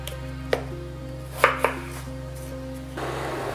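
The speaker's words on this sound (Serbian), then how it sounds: "Tako ćemo iseći sav krompir." A knife chops peeled potatoes into quarters on a board, giving three distinct chopping knocks over a steady background hum, with no talking.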